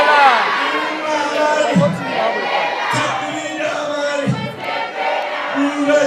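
Loud crowd cheers and shouts in acclaim for a president at a wedding celebration, a sustained roar of many voices with whoops and rising bursts, continuous throughout.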